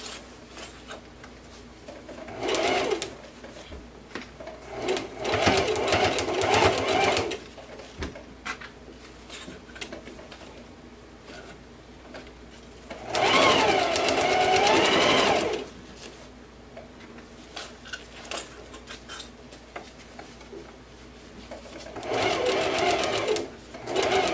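A sewing machine runs in three loud, steady whirring bursts of a few seconds each while back stitching jersey fabric, separated by quiet handling noise.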